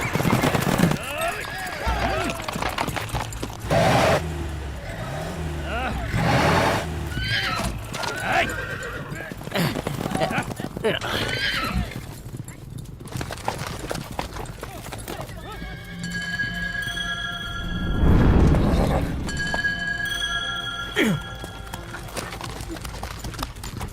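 Horses gallop with steady clip-clop hoofbeats and loud whinnies during a rough buzkashi match, as riders struggle over a goat carcass, with voices and crowd noise mixed in.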